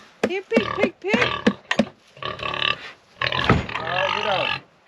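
Pigs on a farm oink and grunt repeatedly at feeding time, loud and close, in a choppy run of short squeals followed by longer drawn-out grunts, mixed with a person calling out to them.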